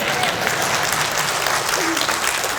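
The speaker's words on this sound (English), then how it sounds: "That's a round of applause, I think so." Dense, steady applause from an audience at a State of the City address fills the room, loud and continuous without a break.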